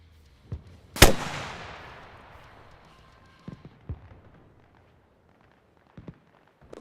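A rocket launcher fires in Arma Reforger: one sharp, loud blast with a long rumbling tail, followed by several faint distant thumps.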